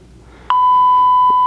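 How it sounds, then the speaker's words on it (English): A threshold alert alarm from the OCO Labs SuperC monitor app sounds as one sharp electronic beep that starts abruptly and then holds as a loud steady tone to the end. "That beep was actually an alarm for the threshold alert."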